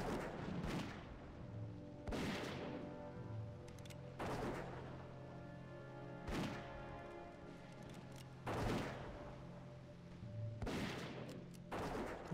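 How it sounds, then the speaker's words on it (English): Cannon fire in World of Warcraft, a string of five or six heavy booming blasts spaced about two seconds apart over a steady game soundscape with music tones, each shot loud and close. "I like that the cannon fucking rips itself sideways every time"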